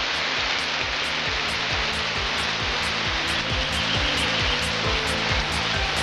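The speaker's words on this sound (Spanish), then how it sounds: "se ha puesto a llover, escucháis el ruido en las hojas" Rain falling on leaves along a trail during the Transcantabrica trek, a steady dense hiss close by, with a faint rhythmic low thumping underneath from walking; no talking.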